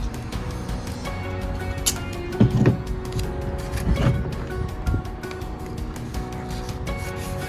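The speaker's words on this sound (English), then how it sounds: "get some masking tape and just cover this side to get ready for drilling" Masking tape pressed and rubbed onto a hard surface inside a third-generation Toyota Tacoma before drilling, a steady close scratchy rubbing with a few louder scraping strokes in the middle.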